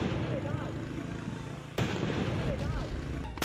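Bomb blasts go off in sequence amid political violence in West Bengal, with sharp bursts and booms over a constant noisy background that has crackling and voice-like sounds mixed in.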